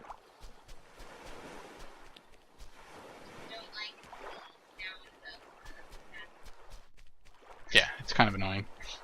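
Rhythmic wooden paddle strokes on water in the survival game Stranded Deep, with faint sloshing under people talking, then a couple of louder splashing strokes toward the end.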